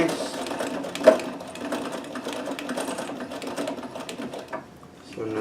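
A Necchi BU NOVA sewing machine running a double needle stitch test, its steady mechanical whirr and rapid needle clatter continuing close up for several seconds before easing off near the end.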